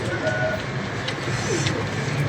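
Pigeons coo softly against steady outdoor background noise, a few faint calls over about two seconds, fairly distant with no clear wing flaps.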